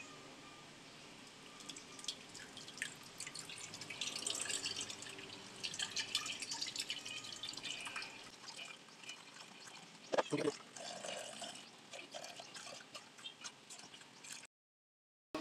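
First squeeze of coconut milk (gata) poured from one container into another while cooking lunch with tuna, a steady trickling, dripping pour that swells midway, with a few clinks and splashes near the end.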